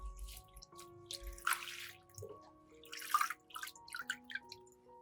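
Water splashing and dripping as fresh mint leaves are washed, in intermittent bursts with quieter gaps between, close by and moderately soft, with faint steady tones in the background.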